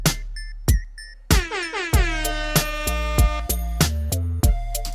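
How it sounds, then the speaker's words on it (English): An air horn sound effect is dropped into a produced beat: loud, repeated brassy blasts land over punchy drum hits and a deep bass line, with pitched tones sliding downward between the hits. "I think the air horn works."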